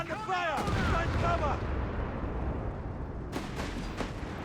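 Machine gun bursts and grenade blasts in the World War II strategy game Company of Heroes 3, heavy booming battlefield fire mixed with game audio while a commentator talks over it.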